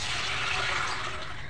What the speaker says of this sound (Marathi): पाणी घालत आहे